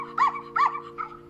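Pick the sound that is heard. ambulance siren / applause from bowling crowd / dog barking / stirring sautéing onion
dog barking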